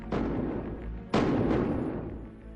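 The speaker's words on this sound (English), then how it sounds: "In the chilling moments that follow, gunshots." Two heavy, booming gunshots about a second apart, each with a long echoing decay, sounding somewhat distant and muffled.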